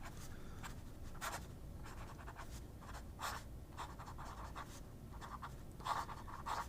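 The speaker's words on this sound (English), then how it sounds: "You definitely feel the writing. It has kind of a sailor-like scribing sound and feel." A scribble pen scratches across paper in a quiet room, producing faint, dry strokes that come in short irregular bursts with small pauses between them.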